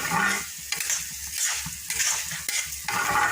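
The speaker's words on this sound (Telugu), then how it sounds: "కరివేపాకుని కూడా మనం చక్కగా ఫ్రై చేసుకోవాలి క్రిస్పీగా." Curry leaves fry crisp in a pan for karam podi, a steady close sizzle with a few stirring scrapes, no one talking.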